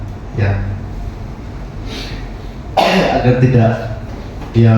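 A few rough coughs and throat-clearing sounds, close by, separated by short pauses against a steady low background hum.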